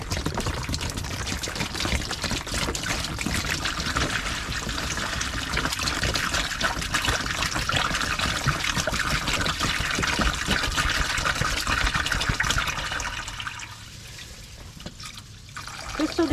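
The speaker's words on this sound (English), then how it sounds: "This also allows me to see exactly how much water I'm putting in" Water pouring steadily into a hydroponic reservoir, a continuous close splashing trickle for about thirteen seconds that then drops off to quiet before picking up briefly at the end.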